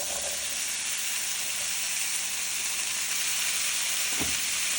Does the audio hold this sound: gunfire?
no